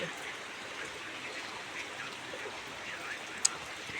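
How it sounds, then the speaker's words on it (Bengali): Rain falls steadily at night in still air, making an even, unbroken hiss with one brief sharp tick near the end. "বাতাস নাই নালার দিকে, বৃষ্টি পড়তে আছে"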